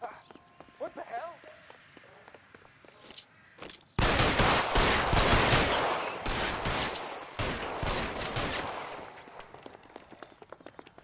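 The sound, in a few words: gunfire in shootout in video game L.A. Noire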